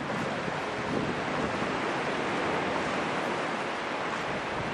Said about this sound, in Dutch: Aan deze kant zee.